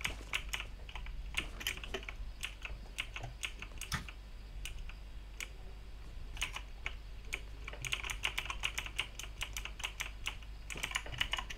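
A computer keyboard typed on steadily throughout, with dense bursts of key clicks and brief pauses, close and clear with no talking, during a French gaming session.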